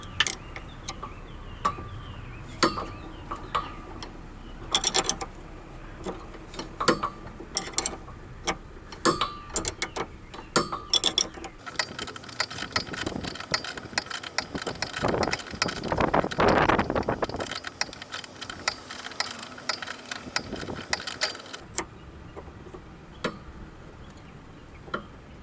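A 5 mm hex wrench turns a rear stabilizer link on an AE111 Levin, giving quiet intermittent clicks and ratcheting ticks, with a denser burst of mechanical rattling midway, close and without speech.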